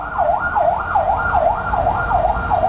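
An ambulance siren wails nearby, a loud rising-and-falling tone repeating about every half second, steady and prominent over low traffic rumble.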